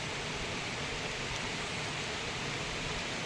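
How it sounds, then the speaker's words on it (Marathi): Steady rain falling outdoors in a village while fieldwork goes on, a dense, even hiss that stays constant and fairly loud throughout with no voices. "पाऊस पण पडतोय."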